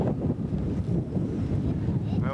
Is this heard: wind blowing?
yes